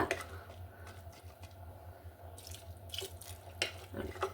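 Water poured into a cooking pot of lentils for a Karnataka-style hitakabele huli, a faint, steady trickle and splash with a few soft drips and clinks, heard alone at low level.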